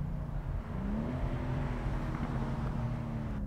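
A performance car with all-wheel steering rumbles with a deep, steady exhaust burble as the engine is held at high revs, the low drone loud and continuous with a slight pitch rise.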